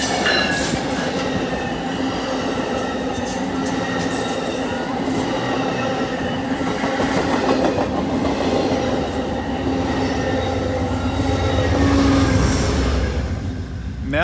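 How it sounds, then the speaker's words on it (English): A passenger train with a dome car rumbles past close by, a steady loud roll of wheels and cars with a low hum, swelling slightly near the end. "did you see the dome car on that train?"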